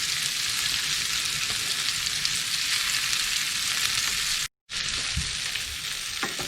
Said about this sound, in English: The beef's starting to sear off there.